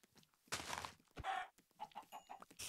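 Video game chickens cluck in a Minecraft-style world, several short bursts scattered through a busy in-game soundscape, moderately loud and close.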